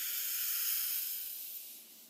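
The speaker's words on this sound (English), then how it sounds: "Let's all take a nice deep breath in" A long, deep breath drawn in, a close airy hiss that swells and then slowly fades away, with no talking.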